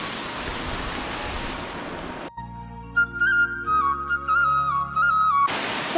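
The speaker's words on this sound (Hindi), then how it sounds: "तो आप ये जो घट्टू का पानी देख रहे होंगे" Steady rushing water from a watermill stream in Mukhwa village in the Harsil valley. It is loud and continuous at the start, cut off midway by music, and returns at the end.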